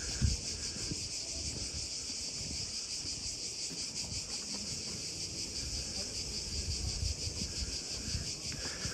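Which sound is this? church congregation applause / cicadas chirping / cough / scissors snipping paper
cicadas chirping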